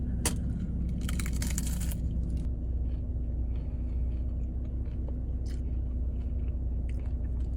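A Doritos Locos Taco shell crunches in a close, crackly bite near the start, followed by softer chewing over a steady low background rumble.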